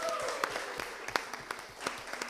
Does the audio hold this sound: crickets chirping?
no